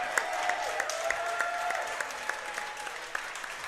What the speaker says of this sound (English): Let's give the Barons a round of applause tonight as well.